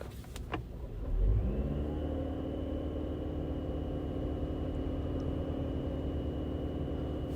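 A Toyota Kijang Innova Zenix Hybrid in sport drive mode pulls away hard, its engine note swelling and rising in pitch, then holding a steady hum inside the cabin.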